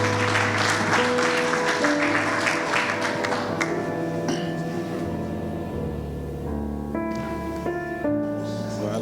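A church congregation claps together to acclaim the Lord, a dense wash of applause that fades as organ or keyboard chords ring out over it.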